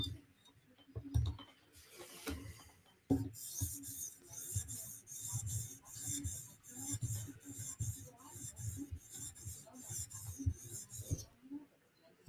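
A thick-tipped custom drop point knife stroked across a sharpening stone being brought to a mirror edge, with rhythmic rasping passes repeating steadily and close, fairly quiet, with a few knocks early on.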